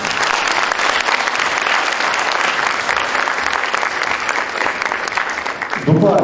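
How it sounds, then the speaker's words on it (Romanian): An audience at an awards gala in Bacău breaks into sustained applause, dense steady clapping filling the room, with a louder swell near the end. "Așa că haideți să aplaudăm pe organizatori."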